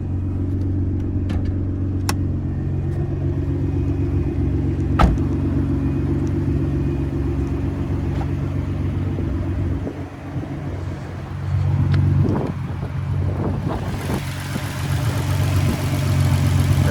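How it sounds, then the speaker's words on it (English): A Nissan GT-R engine running on an E85 tune of about 1100 horsepower idles with a steady deep rumble under the hood, close and loud, with a brief rise in revs near the end and no talk. "And there's the motor there."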